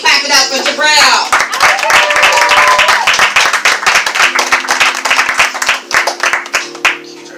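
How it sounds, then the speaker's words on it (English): Several people in a poetry open mic audience clap and cheer close by, the claps quick and scattered, while a voice talks over them. "go ahead and clap it up for Jabril"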